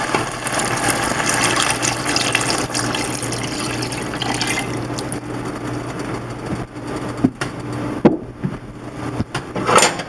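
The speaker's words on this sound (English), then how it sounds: "in goes 3 cups of beef stock" Three cups of beef stock pour into a pot of beef pot pie filling, a loud continuous splashing gush for several seconds that ends in a few clinks and drips.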